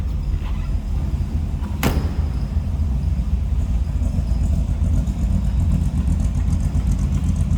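A 1936 Chevrolet Master Coupe fitted with a 283 V8 idles after a cold start, giving a steady, deep, low exhaust rumble that holds evenly throughout, with one brief sharp knock early on.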